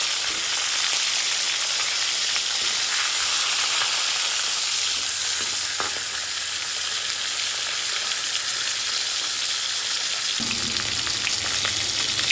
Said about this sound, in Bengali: তেলটা আমার গরম হয়ে গেছে এবার এই তেলে আমি মাথা লেজটা দিয়ে দিলাম